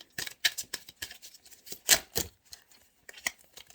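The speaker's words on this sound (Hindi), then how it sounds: "मैं इसको शफल कर दूं क्योंकि मुझे आया कि शफल आया है" A deck of reading cards is shuffled nearby, making a quiet, irregular run of quick papery flicks and slaps that carries on for several seconds.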